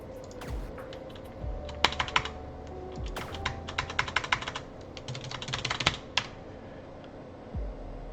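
Code being typed on a computer keyboard: quick, close bursts of clicking keystrokes in uneven runs, with short pauses between flurries.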